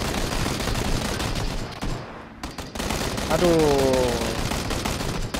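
Sustained gunfire in the PUBG battle royale game, rapid shots crackling almost continuously with a brief lull midway, loud and close, with a short spoken exclamation in between.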